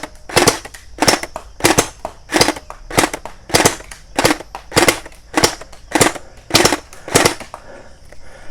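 A Splat-R-ball SBR 1200 gel ball blaster fires in rapid bursts, about a dozen sharp, loud cracking shots spaced evenly and close up, with quiet gaps between them.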